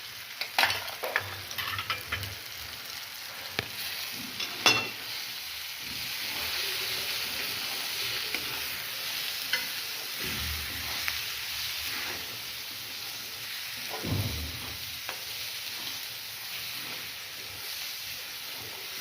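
Chili powder and goda masala sauté in hot oil in a pan, with a soft steady sizzle and intermittent close scraping stirs, including a few sharper clinks near the start.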